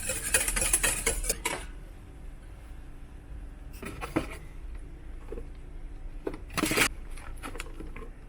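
A whisk stirs a yeast mixture in a bowl in short bursts of metallic clinking and scraping, separated by quiet pauses.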